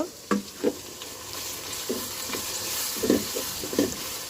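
Onions browning in a pan with shrimp nearby give off a soft, continuous sizzle, broken by a few sharp scraping stirs of a spoon against the pan, all fairly quiet and close.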